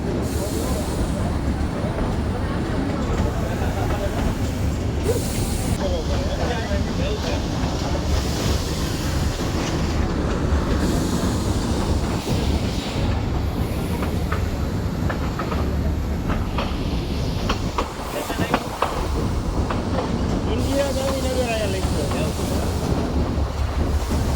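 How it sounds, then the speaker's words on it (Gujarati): Matheran's toy train runs through monsoon rain, giving a steady rolling rumble with wind and rain-like wash throughout, heard from on board with faint voices now and then. "આ આપણી ટ્રેન વરસાદના નજારા સાથે જઈ રહી છે"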